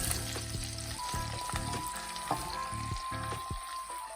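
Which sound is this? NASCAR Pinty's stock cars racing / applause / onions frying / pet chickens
onions frying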